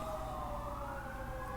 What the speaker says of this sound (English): Damn, another siren's about to mess up my video.